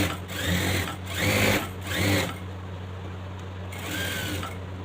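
Sewing machine stitching the edge of a trouser belt runs in three short, close bursts, then quieter running over a steady low hum.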